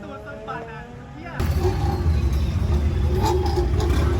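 A modified car idles at a Thai car meet, then its engine suddenly roars up loud and stays rough and throbbing. Quieter crowd noise comes before the revving.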